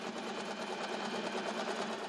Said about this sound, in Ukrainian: Найбільш вправним учитель доручає працювати на швейній машинці.